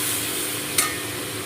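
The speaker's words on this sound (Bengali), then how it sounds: "এবার আমি লাউটা সম্পূর্ণ এখানে ঢেলে দিলাম।" Bottle gourd, boiled with a little salt, tipped into a hot pan for a mustard vegetable dish, giving a steady close sizzle with one brief sharp burst as it lands.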